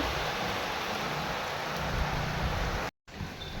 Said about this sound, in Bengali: এই যে ঝমঝম করে বৃষ্টি নামছে, প্রচুর বৃষ্টি হচ্ছে দেখো।